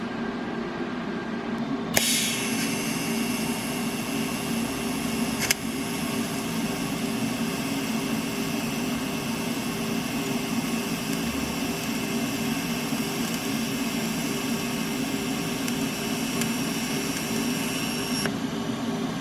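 Steady, buzzing TIG welding arc on two pipes with a tungsten electrode, holding a constant hiss and hum for most of the stretch, with a brighter high-pitched tone beginning shortly after the start and breaking off near the end.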